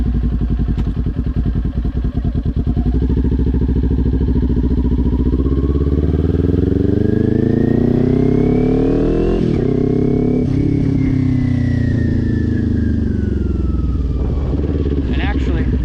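A motorcycle engine idles with a steady low rumble, then revs up smoothly, drops briefly as the rider shifts up a gear, and climbs again, loud and close throughout.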